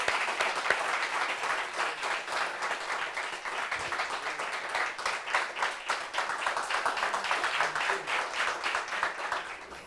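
Studio audience applauding a guest on a French talk show, steady dense clapping sustained throughout at moderate distance, no talk over it.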